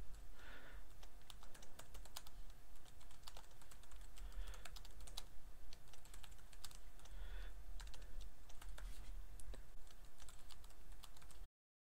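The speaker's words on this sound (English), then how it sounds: "Type in a meaningful subject." Steady typing on a computer keyboard while composing a message in an online discussion tool, with fast, irregular key clicks running continuously and close up for the whole stretch, and no voices.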